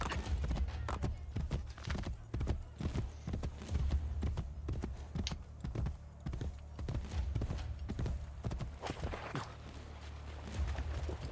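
Horse hooves clip-clop steadily in the Assassin's Creed Brotherhood video game, a continuous rhythmic trot with a brief whinny, heard clearly without talk over it.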